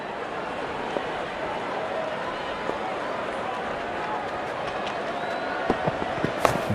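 A stadium crowd in the Real Cricket 24 video game roars in a steady, continuous wash of cheering and noise, with a few sharper claps or bursts rising near the end.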